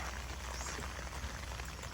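Steady rain patters and hisses continuously on a tent on a Tuesday morning at the Isle of Man TT, with dense droplets drumming on a nearby surface and no voices.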